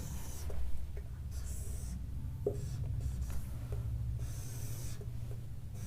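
Pen drawing a figure on paper for a heat conduction problem, with light scratchy strokes and taps over a steady low room hum, close and fairly quiet.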